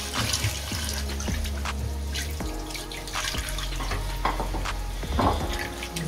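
Water runs steadily into a pot of boneless chicken thigh pieces soaking in salt and vinegar, a continuous splashing, gushing stream with clinks and rattles from the vessel, close and fairly loud throughout.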